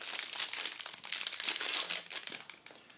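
Feudum: Rudders and Ramparts board game packaging being opened, with continuous close crinkling and crumpling of plastic wrap plus a few tearing rips, loud and busy with no speech.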